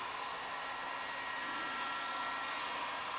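Heat gun blowing hot air over a car taillight, a steady, even whooshing hiss at close range with a constant motor drone and no voices.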